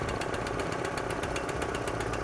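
The gas engine of a Trailblazer 12 air compressor runs loud and close with choke on, a rough, rapid knocking chug that holds steady through the whole stretch, with no voices.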